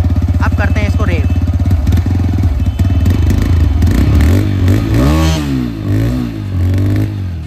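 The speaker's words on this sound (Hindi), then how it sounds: "तो रेव साउंड आपको सुना दिया है।" A TVS Raider 125 motorcycle, 2024 model, idles with a rapid popping exhaust before being revved in several loud rising and falling bursts close to the listener.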